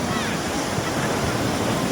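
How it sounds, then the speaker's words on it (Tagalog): Big ocean surf at Casiguran, Aurora, a broad steady roar of waves breaking close by, mixed with wind buffeting the microphone and no distinct individual crashes. "Laking alon oh."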